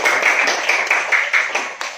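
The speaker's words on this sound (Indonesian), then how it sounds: "aplaus untuk kelompok 2 silakan" Classroom applause for a student group, a steady patter of many hands clapping close by, with a rhythmic swell and fade of pulses running through the whole stretch.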